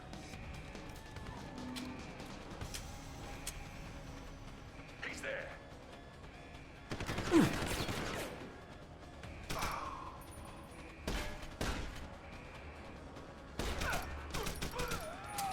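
Gunfire and sniper shots in the video game Deus Ex: Human Revolution, heard as scattered bursts and single cracks mixed in with people talking.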